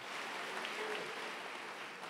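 Faint, steady applause from a church congregation at a worship service, an even wash of clapping with no distinct voices.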